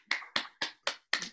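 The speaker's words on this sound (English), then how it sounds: "Bonnie says if everybody could unmute and clap," Five separate claps from one participant on a video call, sharp and evenly spaced, each with a short decay, heard alone and fairly quiet.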